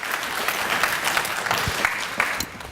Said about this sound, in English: Y'all clap your hands for Stephen